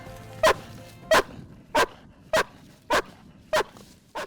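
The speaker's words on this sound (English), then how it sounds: "Having found the victim, Nara protects the site and barks until rescue workers arrive." Police search-and-rescue dog barking during on-site rescue training, seven sharp, evenly spaced barks, loud and close, with no talking.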